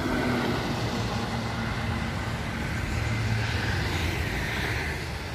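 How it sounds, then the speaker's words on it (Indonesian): A Mandala bus goes by on the Trans Java toll road at Km 583: a continuous, heavy rumbling road roar, near and loud, with a low engine drone steady throughout. "Di belakangnya disusul bus Mandala."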